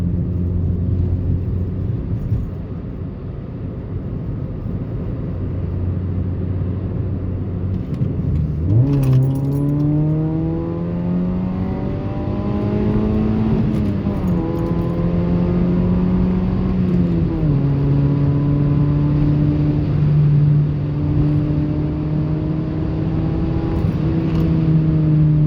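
A modified Toyota Yaris accelerating hard, its engine climbing through rising revs with a couple of gear changes, a loud close in-car drone that steadies into a sustained high cruise.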